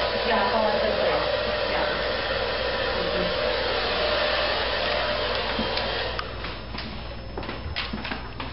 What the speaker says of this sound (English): no matter which way you blow dry this hair with the dryer